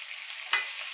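A pork chop sizzling in a hot pan as it is flipped, a short steady hiss with one sharp burst of spitting midway.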